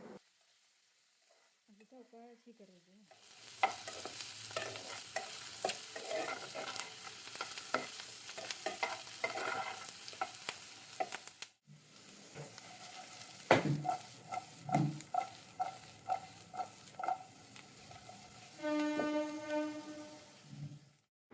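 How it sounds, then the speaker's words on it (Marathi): Mixed vegetables stir-fried in a little oil over a high flame, a steady loud sizzle with the scrape of a spatula stirring through them, broken by a short pause midway and resuming with sharper tossing. "मी हाय फ्लेमवरती या भाज्या सर्व ज्या आहेत त्या हाय फ्लेमवरती थोड्याशा परतून घ्यायच्या आहेत"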